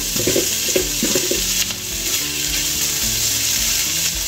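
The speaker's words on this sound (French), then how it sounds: "Laissons que les saucisses sortent un peu de leur jus" Sausages frying in a pan, a loud, steady sizzle and crackle close up, with a few clattering knocks at the start as they shift, then an even spitting hiss alone.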